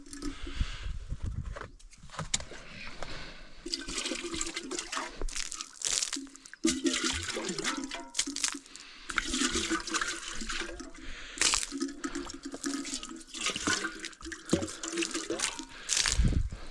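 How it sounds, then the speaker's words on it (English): Water poured and sloshed while rinsing out a coffee pot at an outdoor camp using carried jugs, with irregular splashing bursts, gurgles and drips alongside handling clatter. "Let's rinse this coffee pot out."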